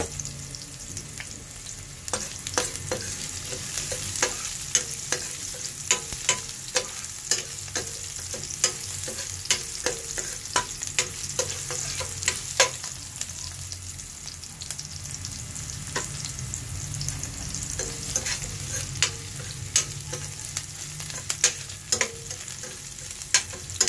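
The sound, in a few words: stirring garlic, onion and ginger frying in a pan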